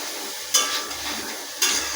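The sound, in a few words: diced potatoes frying in a wok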